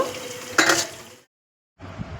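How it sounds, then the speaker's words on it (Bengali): Chopped tomatoes fry in a pan while being stirred, giving a close, steady sizzle with a brief louder scraping stir, then a short silence before the frying resumes more quietly. "আমি টমাটমটা ভালো করে নাড়িয়ে ভেজে নেব"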